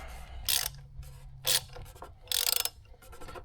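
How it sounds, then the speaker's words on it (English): Half-inch ratchet on a 10-inch extension working loose a plastic oil filter cap on a 2014–2023 Jeep Cherokee 3.6L, several quick close clicking ratchet bursts separated by short pauses. "And my 1/2-inch ratchet. So we're going to put this on loosen mode. Get this on the cap. And try and break it free."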